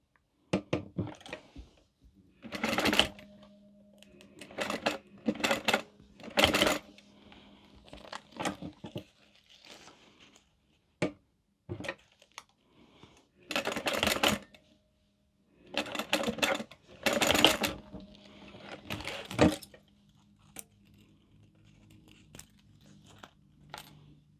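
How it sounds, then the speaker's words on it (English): A home sewing machine top stitches pieces of a mini wallet in short, fairly close bursts of rapid needle clatter, separated by pauses with small handling rustles and no talk. "we're going to top stitch those on"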